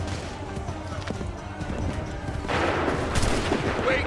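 A musket volley fires in Assassin's Creed at the 1775 Lexington and Concord battle, a rolling burst of gunshots over a noisy battlefield with shouted commands and horse hooves nearby.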